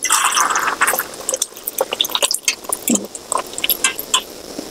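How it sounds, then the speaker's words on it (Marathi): Water from boiled red chillies draining through a sieve, with irregular splashes, drips and wet squishy bursts close by, no voices. "चाळणीच्या साहाय्याने पाणी आणि मिरच्या वेगळ्या करून घेऊ"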